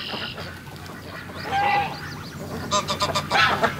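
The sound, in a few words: ducks calling, Muscovy ducks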